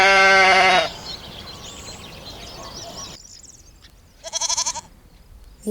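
A sheep gives one loud, drawn-out bleat up close, then a shorter, quieter bleat follows after a stretch of low background noise.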